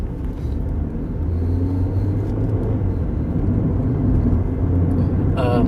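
A car rumbles past at close range, a steady loud low engine and road roar filling the whole stretch, heard from inside another moving car.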